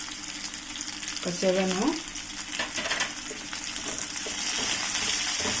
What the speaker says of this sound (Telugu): ఇలా ఫ్రై అవుతుంటాయి.